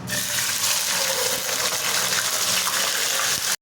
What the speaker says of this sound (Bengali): তেল খুব ছিটাচ্ছে